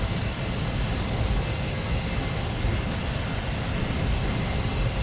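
Engines of a C-17 Globemaster III in Microsoft Flight Simulator, readying for takeoff, a steady broad jet roar holding at an even level throughout with no speech.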